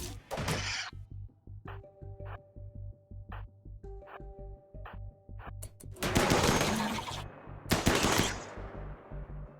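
Gunfire from a RimWorld colony battle during a bug infestation: a rapid string of sharp shots in quick bursts, followed by heavier, denser volleys and crashes, loud and close with no talking.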